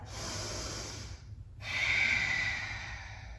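Deep breathing during a yoga flow: a long steady exhale, a short near-silent pause, then a fuller audible inhale, close and alone with no talk.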